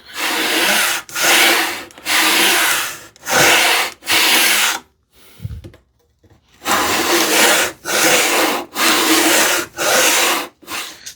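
A hand tool cuts a groove into wood for a shoe tidy, in steady back-and-forth strokes with a short pause midway; loud and close, with no talking.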